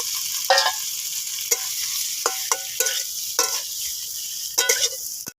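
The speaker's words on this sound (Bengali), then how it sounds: "ফুলকপি আলুকে সে মশলার সঙ্গে আমি ভালো করে ভেজে নিয়েছি" Cauliflower and potatoes frying with spices in a wok, a steady close sizzle broken by several short bursts of stirring and scraping at irregular intervals, with no talk.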